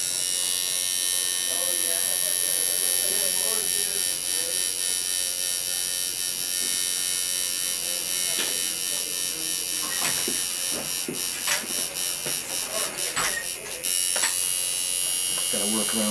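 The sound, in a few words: tattoo machine applying black ink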